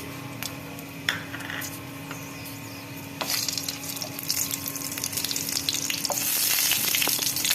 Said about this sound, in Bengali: দারচিনি দিলাম, ছোট এলাচ 4টে, লবঙ্গ 3টে আর গোটা গোলমরিচ।